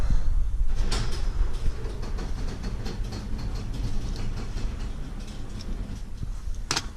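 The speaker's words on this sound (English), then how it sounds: "Okay, garage door is halfway open." A garage door rumbles and rattles steadily as it rolls along its track, stopping halfway open, with a few sharp clunks at the start and end.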